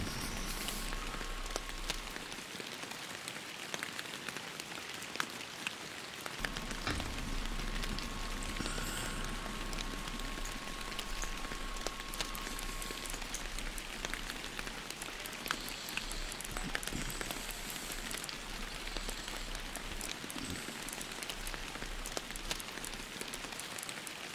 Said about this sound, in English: That rain is so annoying.